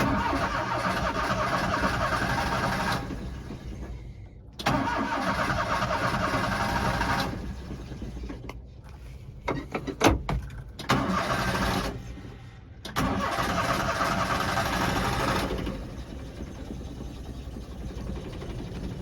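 A Daihatsu Hijet's engine turns over with the choke pulled, in repeated cranking bursts separated by pauses, until it catches and settles into a rough idle near the microphone.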